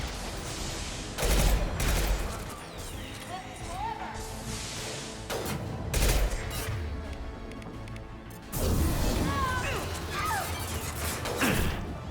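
Weapon fire from Mass Effect 2 gameplay, loud impact shots and bursts arriving in several heavy blasts with crashing impacts and game background noise between them.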